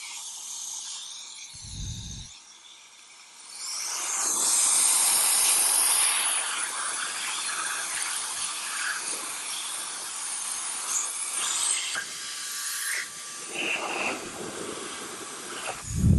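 Roedix R8 Mini wireless compressed air duster blowing, a loud steady rushing hiss that rises after a brief thump, holds for several seconds, then wavers and tapers with handling sounds.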